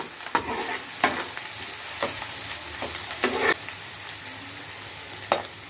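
Onion frying in a pan for an Andhra-style fish curry, a steady close sizzle broken by several sharp scraping stirs spaced about a second apart, with no voices.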